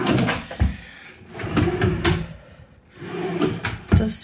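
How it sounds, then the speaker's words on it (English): Wooden drawers in a small cedar tiny house slide open and shut several times, with close scraping glides and soft thuds separated by short pauses. "Pull out drawers."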